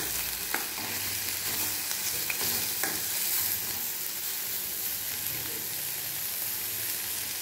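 Ridge gourd sautéing in a pan, a continuous bright sizzle with a few sharp clicks of a spatula stirring, moderately close and steady throughout.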